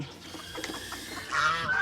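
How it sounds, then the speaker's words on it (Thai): Geese and ducks on a Thai farm give loud, harsh honking calls that grow stronger near the end, with a busy farmyard behind them. "เป็ดหานฝั่งนี้นะครับ"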